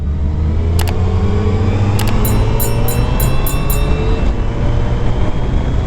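A 2022 Suzuki Hayabusa accelerates hard on the Sonoma Raceway track, a loud, steady engine drone with rising tones and several quick, clipped shift blips through the middle, heard from on board with heavy rushing wind.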